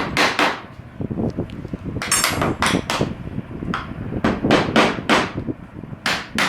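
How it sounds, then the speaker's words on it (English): A small hammer taps parts into place on the X-axis base of a DIY four-axis hot wire CNC machine, giving a close series of sharp, irregular knocks with short pauses between them, and no voices. "Use a small hammer."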